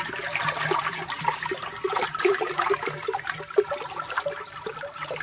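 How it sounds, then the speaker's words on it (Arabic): Water from a natural spring at Sidi Hemad Lehaj near Amizmiz, a steady close trickling and gurgling flow with small splashes and no voices. "شوفوا الماء منين جاي، شوفوا الماء منين جاي الخوت"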